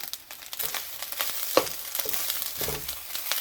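Burnt garlic fried rice gets stirred and tossed in a pan, a continuous soft sizzle with scraping spatula strokes and occasional louder scrapes, close and without talk.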